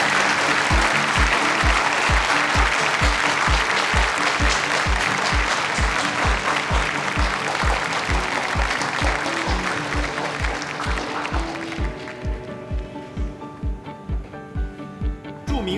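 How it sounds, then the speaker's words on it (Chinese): Applause at a strategic partnership signing ceremony welcoming the two representatives, dense steady clapping from a crowd that thins and fades out toward the end. "掌声欢迎。"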